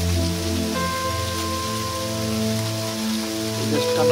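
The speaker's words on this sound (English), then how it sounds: "There's a ton of sleet coming down." Steady patter of heavy sleet falling during a February 2021 winter storm in Maryland, USA, a dense continuous hiss with a faint tonal hum running underneath.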